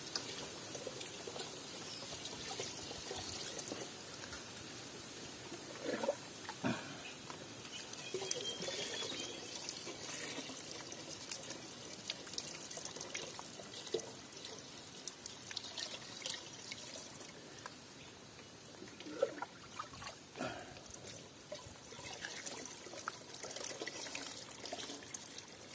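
Free water from a rural provincial source pours into a container until full, a quiet, continuous trickle and splash with occasional drips, close by and without talk.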